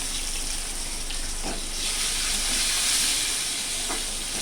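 Chopped tomato dropped into hot oil with fried tempering spices, cooking for a vegetarian yogurt pointed-gourd curry; a steady broad sizzle that swells louder midway, with faint stirring clicks and no talk.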